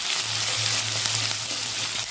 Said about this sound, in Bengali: একটু আদা বাটা দিয়ে দেবো, একসাথে ভেজে নেব।